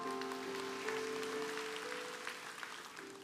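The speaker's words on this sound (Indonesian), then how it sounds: "berikan tepuk tangan untuk Tuhan" Congregation applause at a church service, a broad steady wash of clapping with a held musical tone underneath, continuing at even strength throughout.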